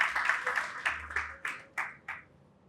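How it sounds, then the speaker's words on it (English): An audience at a business awards event breaks into applause, with a dense burst of clapping that thins into a few loud individual claps before fading. "Please let's give him a round of applause."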